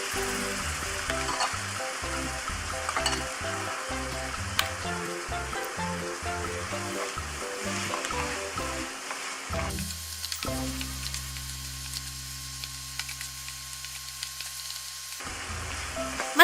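Egg stir-fried with chili, garlic, sugar and fish sauce sizzles steadily in a hot pan. A dense crackling fry runs throughout, with brief stirring scrapes, and the texture shifts partway through to a calmer, smoother hiss.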